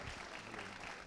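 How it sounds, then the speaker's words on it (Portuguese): Audience applause welcoming a speaker at a cattle field day talk, a brief, steady wash of clapping from a crowd. "Receba os aplausos de todos."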